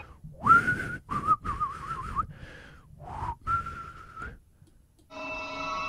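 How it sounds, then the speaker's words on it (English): A man whistles a wavering tune in several short phrases with brief gaps, close and clear, on a dark road beside a fearful tree in an old ghost tale; a sustained musical tone enters at the end. "he began to whistle."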